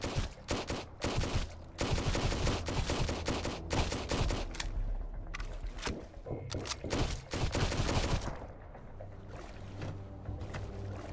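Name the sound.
gunfire in video game Sunkenland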